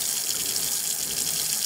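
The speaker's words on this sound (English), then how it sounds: "look at this, some running water in it," Water runs from the faucet into the sink of an Airstream RV after a drain clog is cleared, making a steady, close hiss and splatter with no voices.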